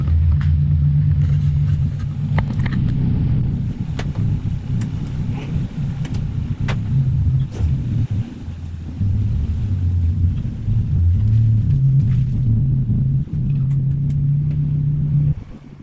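A Nissan 300ZX engine rumbles steadily at close range while the car is moved out after winter storage, a low continuous idle with slight surges that runs through and cuts off at the end.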